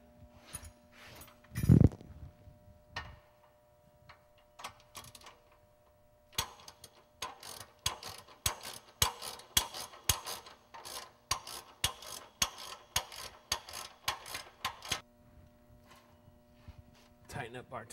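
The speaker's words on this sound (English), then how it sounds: "We take our ratchet." A ratchet tightens a top nut during an installation, producing a long steady run of close, crisp clicks at an even rhythm after a few scattered knocks, with someone talking briefly beforehand.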